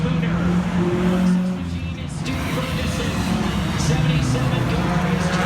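Mini stock race cars run laps during qualifying, engines droning and rising as they pass, with an announcer talking over the steady track noise.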